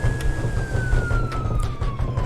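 A police siren wails steadily in the horror game Last Stop Station 66, a single descending tone held throughout over a dense rumbling background.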